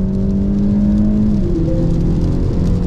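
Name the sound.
four-cylinder car engine revving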